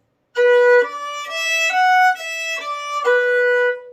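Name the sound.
fiddle playing the tune Squirrel Hunters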